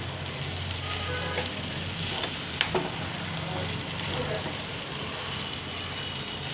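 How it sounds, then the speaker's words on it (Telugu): Small pieces of raw plantain fry in a pan, giving a steady close sizzle with occasional pops and stirring clinks. "ఇంకా మగ్గుతున్నాయండి వేగుతున్నాయి"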